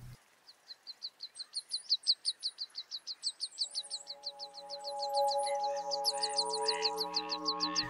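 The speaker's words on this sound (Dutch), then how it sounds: "Vaak verscholen tussen de ruige natuur zien we graspiepers." Meadow pipits in an autumn forest give a rapid, evenly spaced run of sharp, high chirps close by. Midway a sustained low tonal hum rises beneath them while the chirping carries on.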